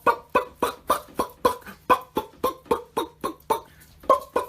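Chickens cluck in a fast, regular series of about twenty short, clipped calls, close and fairly loud, with no talking.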